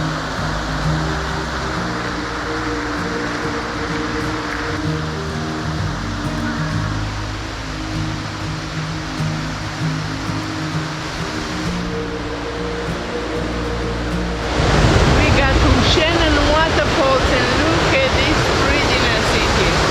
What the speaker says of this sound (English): Beautiful waterfall. We can get a lot closer.